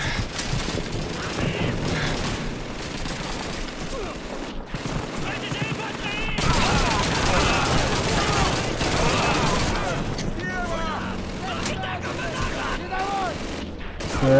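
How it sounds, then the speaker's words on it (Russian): Rapid machine gun bursts and scattered gunfire from the World War II shooter Call of Duty 2, loud and sustained throughout with dense overlapping shots and occasional booms, with faint game voices mixed in. "Пулемет."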